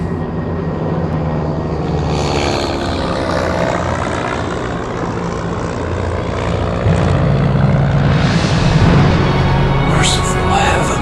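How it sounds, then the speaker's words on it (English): A propeller plane at high altitude drones loudly through a mountain pass, its engine roar steady and close, swelling toward the end with shifting tonal sweeps. "As the plane flew through the pass and crested that momentous divide"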